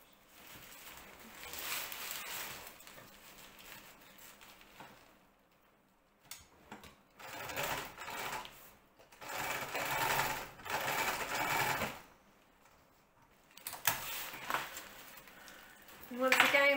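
Sewing machine stitching through several layers of fabric for a large DIY dolphin build, running in bursts of a few seconds separated by quiet pauses, with faint ticking between.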